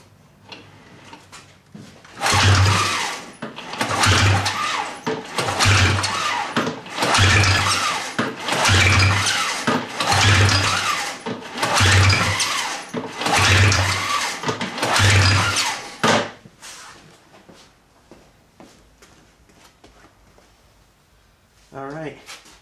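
A 2000 Ski-Doo MXZ 700 snowmobile engine cranks over during a compression test on its left cylinder, about nine loud, regular chugging strokes that stop abruptly, followed by quiet.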